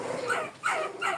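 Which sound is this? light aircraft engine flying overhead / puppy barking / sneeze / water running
puppy barking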